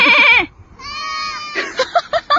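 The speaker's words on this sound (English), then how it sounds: "Baby goats. You're so cute." Young goats bleat nearby: a long wavering cry, a brief pause, then a higher tremulous call followed by several short quick bleats.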